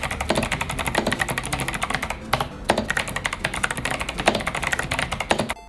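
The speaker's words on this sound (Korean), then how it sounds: "타건 소리는 기계식 고유의 청량함을 표현하는 갈축과 청축의 중간 정도 느낌이라고 합니다" Typing on an 8Bitdo retro mechanical keyboard with Kailh Box White switches, a quick continuous run of crisp clicky keystrokes with a brief pause partway, close and alone.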